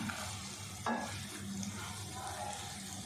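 Dry spices for zeera aloo roast in a pan over low heat, giving a soft, steady stirring and faint sizzle close by, with one brief clink partway through and no talk.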